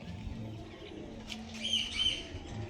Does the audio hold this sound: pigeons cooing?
yes